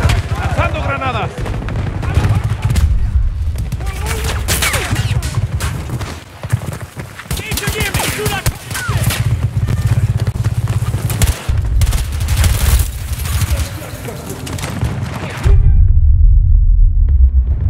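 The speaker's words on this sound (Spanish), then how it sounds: "¡Lanzando granadas!" Grenade explosions and heavy gunfire in Battlefield 2042 on a port map, loud rumbling booms and rapid shots over continuous battle noise, with a voice shouting in the game audio.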